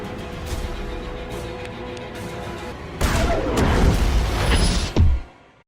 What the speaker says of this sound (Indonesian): pihak militer melemparkan granat ke dalam air